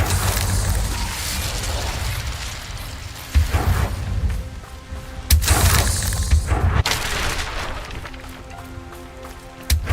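A fire spell cast in the Hogwarts Legacy video game bursts out in loud whooshing, crackling blasts that recur several times over ongoing battle noise and rumble, with no speech heard.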